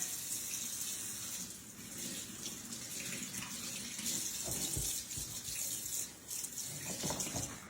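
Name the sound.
water running in kitchen sink while washing flour off hands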